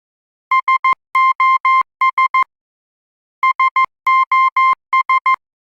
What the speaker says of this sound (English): For example, the standard emergency signal is SOS,